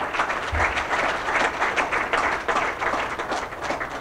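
A school audience at a campus opening applauds for the vice president and co-founder, steady dense clapping sustained throughout at moderate loudness, with no talk over it.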